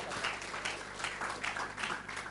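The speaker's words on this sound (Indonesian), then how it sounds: "tepuk tangan buat Allah kita." A church audience applauds for God during a Kingdom Family sermon, a steady wash of clapping at moderate level that pulses in gentle waves with no voices over it.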